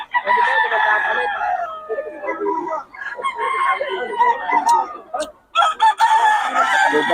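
Roosters crow and cluck at a cockfight in Bocaue, with loud, overlapping fowl calls filling the clip and a brief gap near the end.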